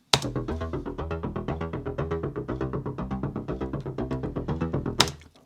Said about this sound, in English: I found one that I liked, which is called the Plucked Bass ARP,